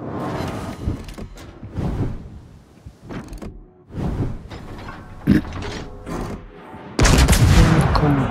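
Warship guns firing in a World of Warships naval battle, several heavy booming salvos spread across the moment, loud and close, ending in a sustained roaring blast.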